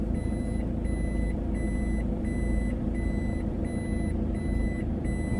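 A delivery truck reverses with a steady string of evenly spaced, high electronic warning beeps over a constant low engine rumble, loud and close.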